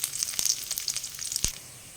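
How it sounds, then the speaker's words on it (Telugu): Mustard seeds, curry leaves, dals and dry red chillies sizzle and crackle in hot oil for a radish chutney tempering, with close, bright popping bursts over a steady fry that fades near the end. "ఒక 4 టీ స్పూన్ల ఆయిల్ అయితే అలా వేసేసి ఆయిల్ కాగిన తర్వాత ఈ పోపు దినుసులన్నిటిని"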